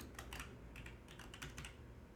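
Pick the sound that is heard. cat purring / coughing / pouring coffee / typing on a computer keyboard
typing on a computer keyboard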